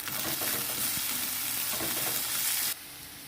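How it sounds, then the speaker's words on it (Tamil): Onions and about ten garlic cloves sauté in a pan, filling the clip with a steady, close crackling sizzle and scraping stirs before the sound drops off sharply near the end. "இதையும் போட்டு நல்லா நம்ம வதக்கி எடுத்துக்கலாம்"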